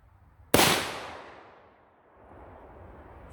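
A single loud 454 Casull gunshot is fired over a chronograph: one sharp, close crack that rings out in a long fading tail, with near quiet before it.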